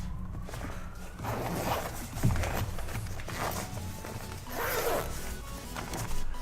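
A zipper is drawn open on a shoulder-strap carry bag for a 22-inch transparent LED skateboard, with a few long rasping pulls and some rustling handling of the fabric.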